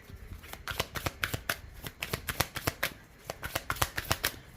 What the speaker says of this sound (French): on va terminer avec une petite carte de l'oracle Inner Star